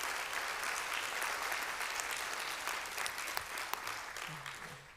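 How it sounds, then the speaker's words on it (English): Round of applause from the congregation at a Pride Shabbat evening service, steady and fairly distant, tapering slightly toward the end with a few isolated claps. "I'm glad I heard that round of applause."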